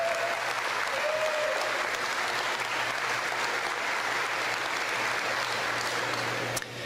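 A large audience applauds steadily for several seconds at a university commencement ceremony, a dense, even wash of clapping that fades out at the end.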